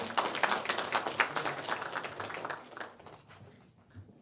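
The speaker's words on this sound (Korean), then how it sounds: "장시간 수고해주신 시장님께 큰 박수 한번 부탁드리겠습니다" Audience at a Hwaseong citizens' regional meeting applauds the mayor, a dense burst of many hands clapping that gradually thins and fades out toward the end.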